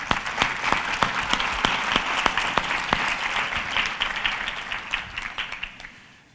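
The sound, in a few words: audience applause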